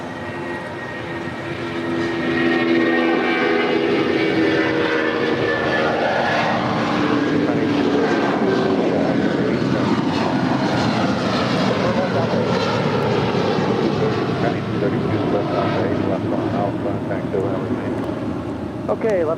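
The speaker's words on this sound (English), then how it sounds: "Eva Air Cargo, 777 coming in from Taipei, flight 610 now touching down." An Eva Air Cargo Boeing 777 from Taipei touches down at LAX, a loud sustained jet roar that swells and holds steady for the whole stretch, with a voice talking over it.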